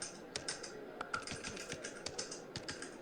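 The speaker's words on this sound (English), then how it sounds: "Typing up Miller's innings." Press reporters typing on computer keyboards at a cricket match, a steady run of quick, fairly close key clicks with irregular rhythm and small pauses, no talk over it.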